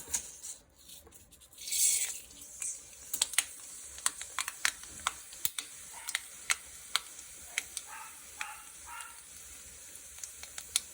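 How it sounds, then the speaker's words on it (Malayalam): Mustard seeds pop in hot oil in a pan on a gas stove, a quiet hiss broken by many sharp, irregular crackles and snaps, with a brief louder surge of sizzling early on. "ഗ്യാസ് ഓൺ ചെയ്ത് പാത്രം അടുപ്പത്ത് വെച്ച് എണ്ണ ഒഴിച്ച് കടുക് പൊട്ടിക്കുക"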